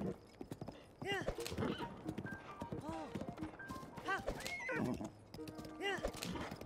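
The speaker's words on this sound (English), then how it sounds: "Why do you keep neighing at me?" Horse neighs and whinnies repeat over clip-clopping hooves in Zelda: Breath of the Wild, with a person talking throughout; the game sounds are fairly quiet and busy.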